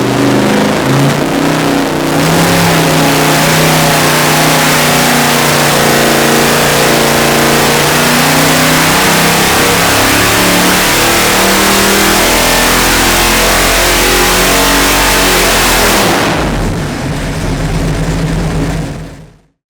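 A rebuilt 454 big-block V8 on a dyno makes a pull to 5,500 RPM, roaring loud and close with a steadily rising engine note that holds for most of the run, then cuts off sharply near the end.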